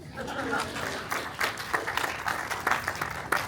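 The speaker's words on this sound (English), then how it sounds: "Okay, applause for yourselves." Applause from an audience at an Irish heritage event held at a historic house, moderately loud, scattered claps forming a short round, with a hint of voices mixed in.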